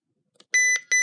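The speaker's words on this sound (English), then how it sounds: "And then I press the menu button" Menu button beeps on a Radio Shack 12-259 handheld S.A.M.E. weather radio: two short, loud electronic tones close together after a faint click, with silence before.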